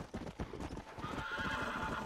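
Horse hooves clip-clop steadily in a Red Dead Redemption game, a black horse trotting in a quick, even rhythm of close, loud hoof strikes that run continuously with no talk over them.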